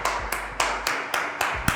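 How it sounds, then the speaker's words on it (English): A group of people clap their hands together in unison during a HIIT workout class, producing a steady run of sharp, evenly spaced claps, roughly seven crisp strikes across under two seconds with no talking. "Everybody get your hands up and give yourselves 10 claps right now."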